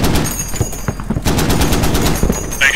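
Rapid bursts of automatic gunfire from an HMMWV-mounted weapon in a combat video game set in Al Basrah, loud and close, with repeated rattling volleys across the clip and a faint voice at the edges.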